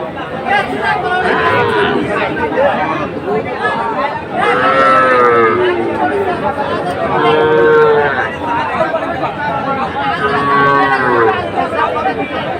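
Bull calves and heifers moo repeatedly at a busy cattle market in Barguna, loud and close, with crowd chatter and voices running underneath throughout.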